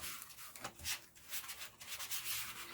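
Book binding cloth is smoothed down by hand, giving a series of close, quiet rubbing and brushing strokes in an uneven rhythm.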